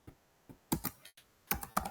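Close, brisk keystrokes on a computer keyboard as JavaScript code is typed, coming in short irregular clusters of clicks with brief pauses between them.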